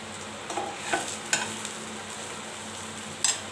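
A patishapta pancake with palm filling cooks in a pan, giving a faint, soft sizzle with a few light scrapes and taps as it is turned, and no voices.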